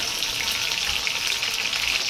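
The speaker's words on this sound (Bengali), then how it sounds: "এখন আমি একে একে ভেজে নিচ্ছি।" Beef shashlik threaded on toothpicks fries in hot oil, giving a steady, close, dense sizzle that holds level without a break and has no voices over it.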